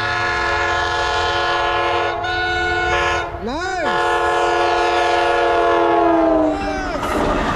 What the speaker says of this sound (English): Come, give me a horn show today.